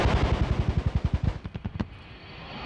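An A-10 Thunderbolt II Warthog's 30mm cannon fires a rapid, loud burst of about fifteen heavy reports. A short trailing burst follows, then the noise fades into a low rumble.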